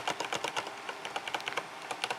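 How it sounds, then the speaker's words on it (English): Typing on a Corsair K95 Platinum XT mechanical keyboard gives a quick, uneven run of close, light key clicks with nothing else heard. "Keys aren't quite as loud as the MX Reds."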